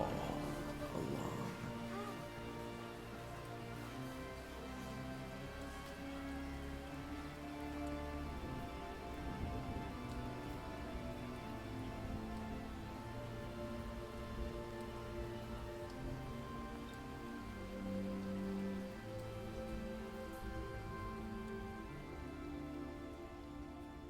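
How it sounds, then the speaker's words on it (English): Steady rain falls on the ground, wooden boards, a balcony and surrounding buildings, making a continuous dense hiss with soft patter, evenly loud throughout with no pauses. "The sound of rain on the ground, the wood, balcony, the buildings around you"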